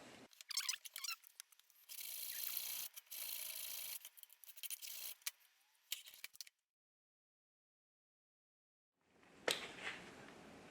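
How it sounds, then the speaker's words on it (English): Sanding the slightly rough end of a wooden board for a basic toolbox: broad scratchy rasping strokes repeat for several seconds, then a silence, then a brief final burst of rubbing. "I found that my end has a little bit of rattiness here, so we're going to sand that one as well."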